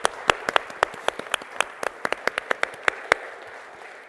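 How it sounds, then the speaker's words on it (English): Scattered applause from a small audience for presenters at a talk, individual claps distinct and irregular, fading toward the end. "And let's give them a round of applause again."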